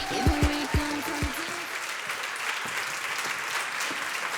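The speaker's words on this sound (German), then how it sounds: "Danke für euren Applaus für die internationalen Gewinnerinnen und Gewinner in diesem Jahr." Audience applause for the international winners at the 2021 Song Contest final, a sustained wash of clapping that starts just after a few low musical notes fade and carries on steadily to the end.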